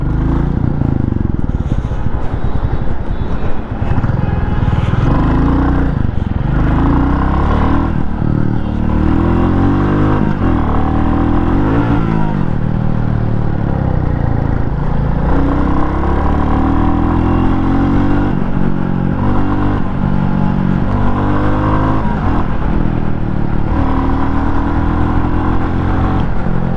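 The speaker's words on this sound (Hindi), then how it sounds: "साउंड सुनना देता हूँ मैं आपको बाइक की," A 2023 Royal Enfield Classic 350 motorcycle engine revs hard and steadily, loud and close, its thumping exhaust rising and falling continuously without any voices.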